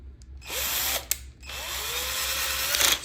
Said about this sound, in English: you're just gonna put it right back on with the screw and the washer again